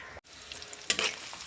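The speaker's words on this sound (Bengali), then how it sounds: "এটা আমি একটু ভাজে নেবো পেঁয়াজটা" Onion frying in a pan with boiled dal for chicken khichuri gives a low steady sizzle, broken by a brief dropout and then a louder burst of scraping and stirring near the end, with no talking.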